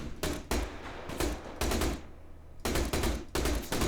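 Automatic weapon fire during weapons testing in the video game Survarium comes in rapid, loud bursts of shots, with one short gap of quiet before the firing resumes in quick clusters.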